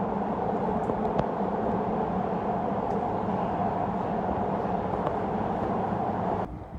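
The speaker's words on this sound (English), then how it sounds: "Metro right next to the motorway." A metro train runs right beside a motorway, giving a steady, loud rolling rumble that holds evenly for several seconds before cutting off abruptly near the end, with no voices.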